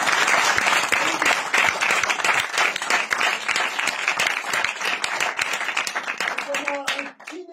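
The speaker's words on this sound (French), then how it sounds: "un tonnerre d'applaudissements dans les deux cas pour vous d'avoir fédéré autour de vous" An audience at a live comedy event in Lyon breaks into dense, sustained applause, loud and close, with voices mixed into the clapping before it thins out at the end.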